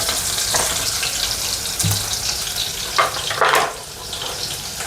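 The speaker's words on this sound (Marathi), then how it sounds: "थोडीशी ब्राऊन पर लसूण परतून घ्यायची" Two heads of crushed garlic sizzle and fry in a pan, a steady crackling hiss throughout with a few louder spatters and clinks of stirring, no voices.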